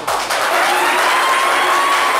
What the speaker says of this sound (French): nous, médias d'État, on va te célébrer avec des applaudissements